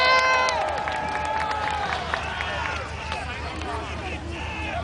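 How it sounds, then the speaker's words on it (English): A crowd at a Battle of Hastings reenactment cheers and calls out for William as Norman knights charge, with a loud, steady mass of voices and scattered whoops filling the whole stretch. "So let's give another cheer for William!"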